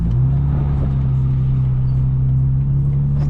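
A 900-horsepower tuned 2025 BMW M4 Competition xDrive revs on a windy day, a loud, steady low engine drone heard up close with slight swells in pitch and no talking.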